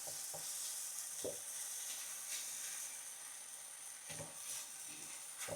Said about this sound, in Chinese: 我把这个做好的鸡蛋再倒进来， 这样的话我再搅拌。